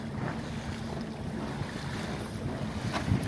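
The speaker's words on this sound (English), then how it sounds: "The way the wind is now, we'll be sailing all the way back to the dock." Wind rushes steadily past a sailboat under sail, with water washing against the hull and buffeting on the microphone, a continuous broadband roar with no voices.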